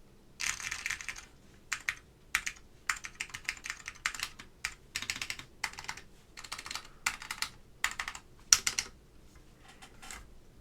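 Keystrokes on an ETAR87 mechanical keyboard fitted with Alps SKCM Brown switches, close and crisp, arriving in quick irregular bursts with short pauses between runs.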